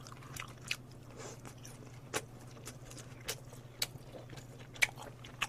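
Sharp, crisp crunches of biting into black sesame fried chicken come every second or so, with quieter chewing between them and a low steady hum behind.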